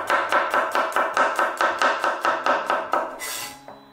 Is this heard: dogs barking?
no